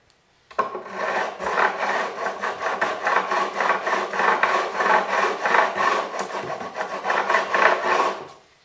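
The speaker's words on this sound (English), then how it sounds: "I'll just use a file, and then I also have this beveling file which runs over the fretboard" A beveling file runs over the fret edges of an acoustic guitar during a refret, producing close, loud rhythmic rasping strokes in a steady back-and-forth pattern for several seconds, then stopping.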